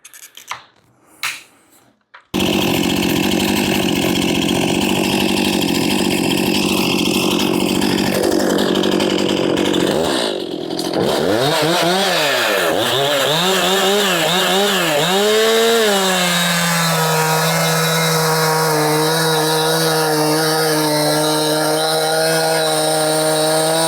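A two-stroke chainsaw running on a 32:1 oil-to-gas premix starts after a few short pulls, then roars loud and steady, revving up and down in sweeping waves before settling into a high, constant drone.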